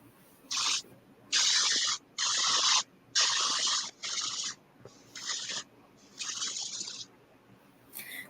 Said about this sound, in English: now it's time to spray this one.